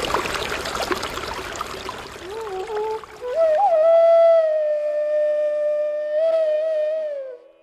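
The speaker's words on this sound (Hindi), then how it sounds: "सरस्वती नदी का जो कल कल निनाद है वो इतना ज्यादा होता है" Saraswati river near Bhim Shila in Mana rushing and gurgling as a steady, close wash of water, with a long sustained tonal whine rising out of the flow in the later seconds.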